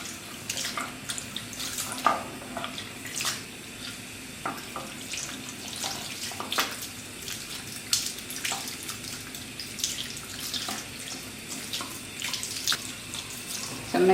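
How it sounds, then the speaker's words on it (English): A tap runs steadily, rinsing cold water through dyed hair over a sink, a continuous splashing hiss with small bursts and clatter throughout. "Just gonna rinse it with some cold water."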